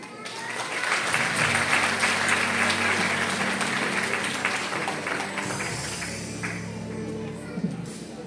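Audience applauding second-graders at a school holiday concert for Christian family day in Sofia, steady dense clapping from a large hall crowd lasting several seconds, then tapering off, with no voices over it.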